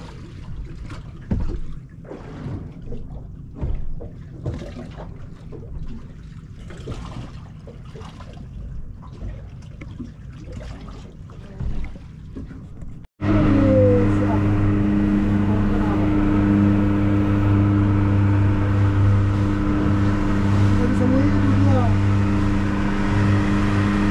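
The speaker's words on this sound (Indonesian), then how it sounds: "Perjalanan pun kembali dilanjutkan, tapi boot hanya jalan dengan satu mesin ya teman-teman." Speedboat near Komodo and Padar islands running on only one of its two engines, first idling and rocking on open sea under talk, then a steady loud engine drone with rushing water once underway.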